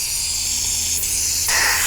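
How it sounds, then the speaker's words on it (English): Chain lubricant sprayed from an aerosol can onto bearings during an arcade cabinet restoration, a steady close hiss that grows louder and brighter near the end, with no voices. "I have this lubricant here, it's for chains, but I think it'll work just fine. Let's just kind of spray these guys down"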